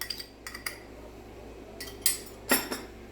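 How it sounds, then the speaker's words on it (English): Spam fried rice with sauce stirred in a pan, several bright metallic scrapes and clinks of a utensil against the pan in short irregular bursts over quiet background. "So we're just going to stir that."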